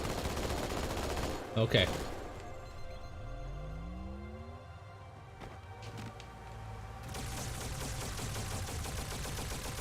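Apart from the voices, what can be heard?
turret firing rapidly in the video game Halo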